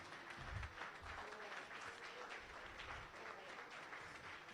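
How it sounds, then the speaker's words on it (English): Applause from a standing audience at a club retreat banquet in Nigeria, a steady wash of clapping held at moderate distance for several seconds with a low rumble of room noise beneath. "Can we please all stand and give him a clap?"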